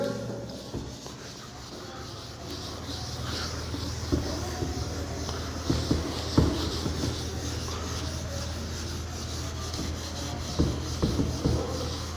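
Steady rubbing and scraping as a duster wipes writing off a classroom board, a continuous close abrasive swish with occasional louder strokes over a low background hum.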